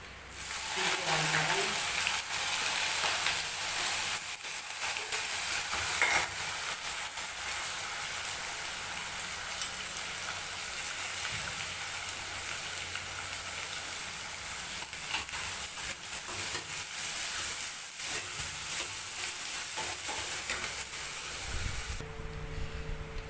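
Garlic and then cumin tempering in hot fat for moong and chana dal, cooked over a clay hearth, makes a continuous crackling sizzle for over twenty seconds with faint stirring beneath and a brief lull at the end.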